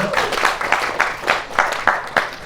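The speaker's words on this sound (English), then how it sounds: "big clap for yourselves" Audience at a debate event clapping for themselves, a lively round of hand claps with rhythmic bursts and sharp individual claps, fairly close and loud, with faint voices underneath.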